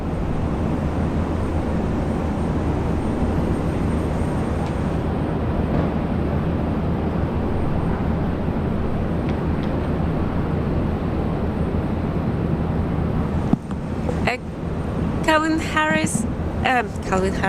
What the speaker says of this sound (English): he's under tow, so he's not taking off, unfortunately